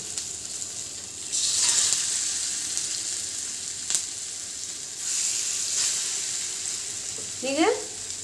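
A piece of flattened-rice (poha) snack shallow frying in hot oil, a steady broad sizzle that swells as it goes in, with a few faint utensil clicks and a brief scrape near the end.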